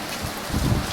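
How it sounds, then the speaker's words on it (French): Steady rain falls in the mountains near Grenoble, a continuous soft hiss of drops with no voices over it. "il fait 15 degrés et il pleut toujours"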